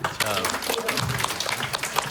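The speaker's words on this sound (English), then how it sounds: "let's give all these people a big round of applause" Audience clapping at a K-beauty product business presentation, a brief, dense burst of applause from a crowd, loud and close, with a voice speaking over it.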